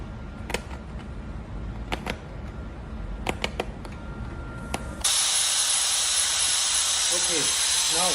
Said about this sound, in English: now we put in the steam outlet pipe and we open just a little bit